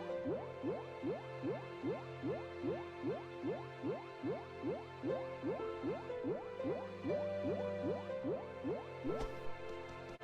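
Underwater movement in the game Cube World as a character goes under the surface: steady rhythmic bubbling and gurgling pulses, repeated evenly throughout at moderate level, with no voices.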